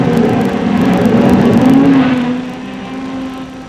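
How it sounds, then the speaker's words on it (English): A Ford 105E engine, rated at 85 horsepower, in a Formula Junior race car, running loud and close with a steady droning note that rises briefly, then settles and fades slightly. "Press the starter button, and the 85 horses of the 105E spring into life"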